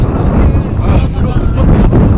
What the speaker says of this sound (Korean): 바람 장난 아니다.